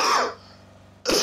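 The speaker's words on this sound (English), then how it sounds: "You can't hear the shots of your fucking coughing." One short cough, then a brief pause and a second harsh cough close to the microphone during a PUBG match.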